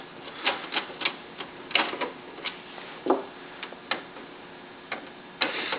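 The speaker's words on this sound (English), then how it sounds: "we're going to have some screws we're going to want to remove" Screws being removed from the back of an HP printer, with a steady series of small sharp clicks and ticks of the screwdriver and plastic parts, close up and fairly loud.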